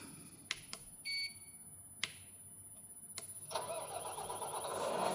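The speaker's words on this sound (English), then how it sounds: "The engine's up and running." A small engine sound module on a 1/14-scale RC crawler crane starts up after a few sharp clicks and beeps, then settles into a faint, steady mechanical hum near the microphone.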